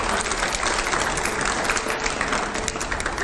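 Recorded applause played in a TV studio, steady dense clapping from a crowd that holds at an even level throughout without any voices.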